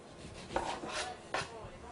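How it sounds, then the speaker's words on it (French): Serrated knife sawing the ends off a grapefruit and an orange, two short crisp cutting strokes with a faint rasping rub between them, close and alone. "Nous allons couper les extrémités des agrumes pour avoir une bonne assise du fruit"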